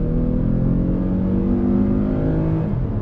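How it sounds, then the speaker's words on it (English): A 2020 Toyota Highlander Limited with a V6 and 8-speed transmission accelerates hard under throttle, its steady engine drone rising smoothly in pitch throughout, loud and close with no talking. "let's go ahead and see how this V6 with the 8-speed adds up to performance"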